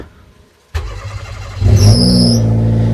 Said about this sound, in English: Now let's start this thing up.